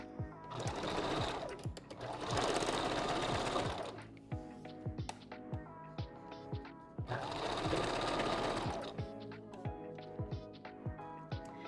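A sewing machine stitching a 5x5 closure wig runs in two loud bursts of rapid whirring, separated by quieter stretches of sharp clicks and taps as the fabric is repositioned.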